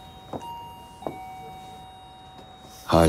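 A doorbell rings inside a home, a faint sustained chime with a few soft knocking taps beneath it, and a voice starts just at the end.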